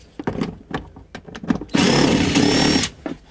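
Panel bolts on a 2003-2021 Chevrolet Express 3500 van come out with a close power tool, which makes one loud whirring burst of about a second between scattered metallic clicks and handling knocks.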